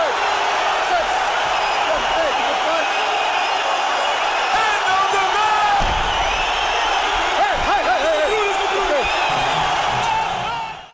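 A large crowd roars and cheers at a K-1 kickboxing event in the Netherlands, a dense, continuous wall of noise with scattered whoops and some voices, loud and steady for the whole stretch before fading out at the end.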